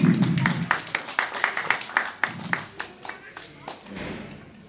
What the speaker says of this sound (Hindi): बेटी को तालियां बजा दें